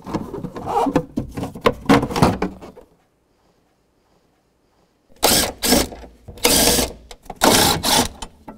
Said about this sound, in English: take your 10mm socket and tighten up the nut which secures the terminal in place